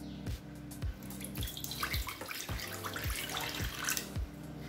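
Water is poured into a pot of chopped vegetables such as carrot, beans, drumstick and brinjal for cooking sambar rice, a faint steady trickle and splash with small gurgles, no voices.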